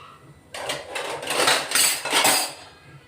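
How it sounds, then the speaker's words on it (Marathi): Hot water splashes and sloshes around a metal bowl as it is rinsed of ground masala paste while cooking red chana masala, with light clinks of the bowl over about two and a half seconds, close and fairly loud. "गरम पाणी टाकले, वाटी धुवून घेते."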